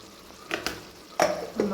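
Semi-roasted chicken curry with a sprinkle of pepper powder is stirred in a pan, giving a few short, scraping and sizzling bursts over a quiet background.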